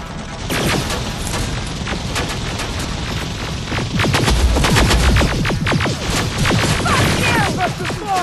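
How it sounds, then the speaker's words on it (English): Heavy gunfire in the video game Terminator: Resistance, a dense, continuous barrage of loud overlapping shots and impacts that builds in intensity toward the middle, with no voices audible over it. "Keep firing! Watch the heavy fire!"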